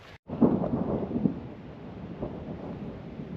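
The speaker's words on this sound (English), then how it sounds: "You can hear that thunder." Low rolling thunder over a high-elevation lake in the Yosemite high country, a deep rumble that swells early and then trails off into a steady wind-like wash.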